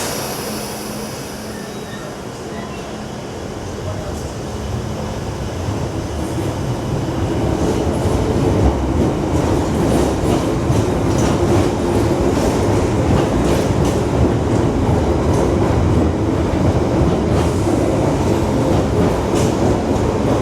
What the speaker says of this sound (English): Piccadilly line train has just departed.